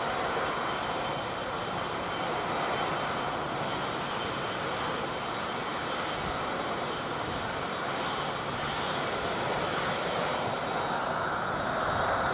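An Ethiopian Boeing 777 freighter at London Heathrow produces a steady, broad jet engine roar that stays loud and unbroken throughout, with no voices over it.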